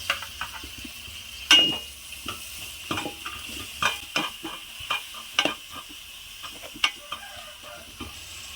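Tomato pieces frying on low heat in a pan for paneer biryani, soft continuous sizzle broken by repeated scraping strokes and clinks of a spoon against the pan.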